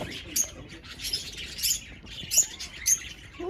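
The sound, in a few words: flock of birds chirping while flying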